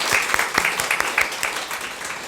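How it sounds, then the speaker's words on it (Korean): A church congregation gives a short burst of welcoming applause, with distinct claps standing out in a brief, moderately loud patter that fades by the end. "다시 한번 환영의 박수를 마지막으로 드리겠습니다."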